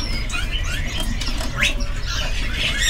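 Caged songbirds at the Pramuka bird market give scattered chirps and squawks, some sharp and near, over a constant busy market hubbub with no clear talk.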